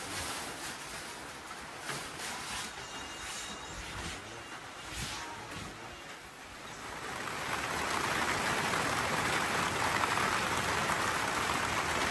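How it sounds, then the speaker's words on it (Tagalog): Heavy rain pours down steadily on surfaces during a storm, a dense hiss that swells louder and fuller partway through and stays constant. "Lakas ng ulan."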